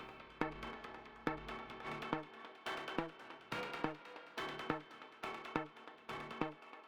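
Quiet synth stabs in a quick repeating pattern through a jump-mode delay, each hit followed by short bouncing echoes that jump and fade, with brief gaps between phrases.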